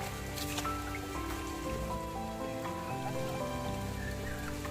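Heavy monsoon rain falls outdoors over flooded fields, a dense steady hiss of drops that runs unbroken throughout with faint tonal sounds underneath.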